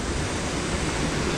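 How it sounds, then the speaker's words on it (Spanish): A small waterfall in a hot river in the Bosque de la Primavera, Mexico, rushes close by as a loud, steady broadband roar without pauses or voices. "Aquí ya se hace una cascada"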